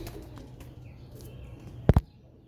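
Champion pigeons, red-eyed breeding pairs, coo softly and steadily in a low murmuring rhythm close by, broken near the end by two brief sharp knocks.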